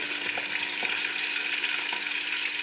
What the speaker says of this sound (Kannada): ಟೊಮೊಟೊ ಮಿಕ್ಸರಿಗೆ ಹಾಕಿದ್ರು ಓಕೆ ಆಮೇಲೆ ಸರಿಯಾಗಿ ಸ್ವಲ್ಪ ಫ್ರೈ ಮಾಡಿ